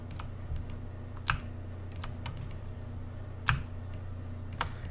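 Clicky typing on a computer keyboard during a Cinema 4D livestream session, keystrokes scattered irregularly over a steady low hum, with a few louder isolated key hits standing out.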